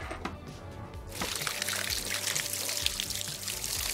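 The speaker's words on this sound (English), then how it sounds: "You don't have to pour much water." Water is poured into a toy bathtub with a steady, close splashing trickle that grows louder after the first second and runs continuously to the end, with brief clatters at the start.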